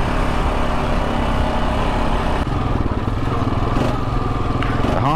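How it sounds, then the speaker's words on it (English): A Honda Rancher ATV fitted with a snorkel runs steadily nearby, its engine a loud continuous rumble with slight shifts in pitch as it revs. "That motor sounds good in that snorkel."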